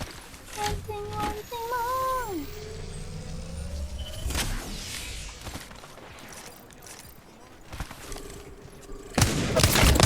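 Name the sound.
gunfire in the video game Apex Legends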